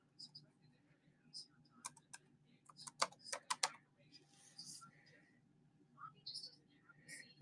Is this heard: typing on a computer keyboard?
yes